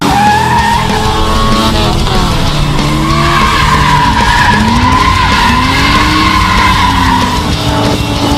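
A V8-swapped Mazda RX-7 FC3S drifts with loud, sustained tire skidding and squealing, the engine note rising and falling beneath the screech, close and continuous with no voices.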